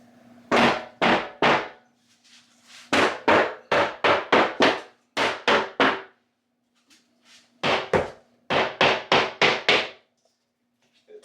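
Wood being pried apart with nails working loose, heard as sharp, hard knocks in quick bursts of three to five, separated by short pauses, close and loud.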